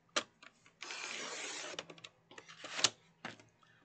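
A 12 by 12 inch craft sheet is trimmed down with a paper cutter for a one-sheet window craft, giving a long rasping slide of the blade along with short clicks and knocks of the trimmer, close and clear with no voices.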